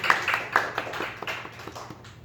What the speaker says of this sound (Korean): 진심으로 환영합니다. 박수!